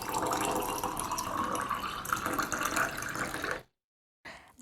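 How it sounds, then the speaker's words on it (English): Water poured into a jar flows in a steady, close splashing stream for several seconds, then stops briefly before a short final trickle, with no one talking. "I'm pouring some water into the jar"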